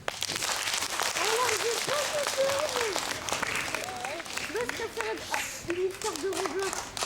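Children at a Christmas show applaud a storyteller with steady, lively clapping throughout, while an adult voice speaks over the applause.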